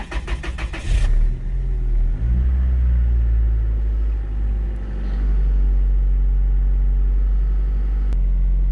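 A 1997 Toyota Tacoma engine rumbles close and loud, starting with a burst and then revving in a steady, sustained drone with small rises in pitch as the throttle opens.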